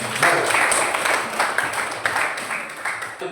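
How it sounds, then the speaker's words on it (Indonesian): A class claps for a student, a busy, steady patter of many hands that runs through without pause and fades slightly toward the end. "beri tepuk tangan untuk Maris"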